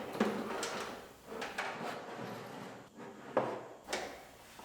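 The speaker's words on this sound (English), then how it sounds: "So now you put the latch in the rear door." A door latch fitted into the rear door of a GMC Terrain Denali, several faint metallic clicks, scrapes and knocks at irregular intervals, close by and quiet.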